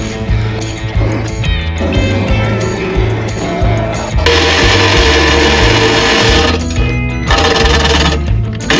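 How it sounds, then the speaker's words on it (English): Power tool cutting through a Jeep TNT Customs corner guard during installation, a loud, steady mechanical grind with pulsing low-end chatter that runs throughout and intensifies partway through. "I think we're just gonna cut it kind of straight like that."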